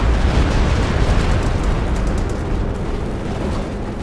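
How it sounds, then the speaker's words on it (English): Stuka dive bomber barrage in the World War II strategy game Company of Heroes 2: a dense, continuous rumble of explosions, loud and steady, slowly easing off over about four seconds with no speech. "So another Stuka barrage nicely dodged there by Ziz."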